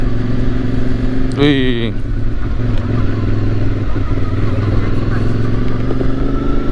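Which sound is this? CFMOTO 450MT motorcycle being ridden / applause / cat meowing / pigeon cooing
CFMOTO 450MT motorcycle being ridden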